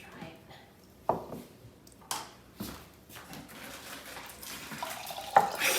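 Homemade oat milk pouring into a container, a soft watery splashing and trickle with a few sharper sloshes, fairly close and continuous for several seconds.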